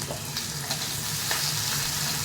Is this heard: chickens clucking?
no